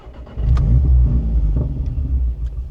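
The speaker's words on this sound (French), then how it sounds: "déjà on va la démarrer." A 490 hp Audi S1 fires up from inside the cabin: a short crank, then the engine catches with a deep, loud rumble that settles into a throbbing idle.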